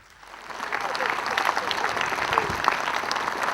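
An audience breaks into applause at a stage show, the clapping rising from quiet to a steady, dense patter of many hands that carries on throughout.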